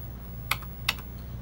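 Two crisp, close keystrokes click on an Atari 800 computer keyboard, spaced about half a second apart over a low hum, each with a faint trailing rattle.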